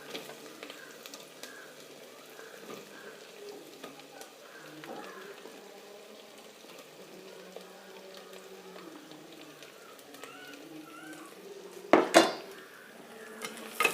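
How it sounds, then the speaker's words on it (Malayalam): About 150 grams of finely chopped onion, added after garlic paste, sautés with a faint sizzle in a pan, with soft stirring and a couple of sharp metallic clanks of a spoon against the pan near the end. "കൊത്തി അരിഞ്ഞ് വെച്ച് 150 ഗ്രാം സവാള ഇട്ട് കൊടുക്കും."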